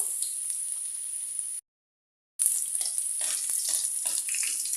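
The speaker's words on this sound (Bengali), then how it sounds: "তেল গরম হয়ে গেছে রসুন কুচি দিয়ে দেবো" Chopped garlic fries in hot oil for a cabbage stir-fry, a steady bright sizzle that cuts out briefly, then returns louder with light scraping and crackle.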